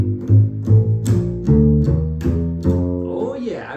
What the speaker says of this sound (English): So then my first 2 bars sound like this.